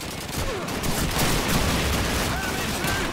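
Sustained, dense gunfire from a machine gun in the Call of Duty video game, loud and continuous throughout with a thick rattling texture and no clear pauses.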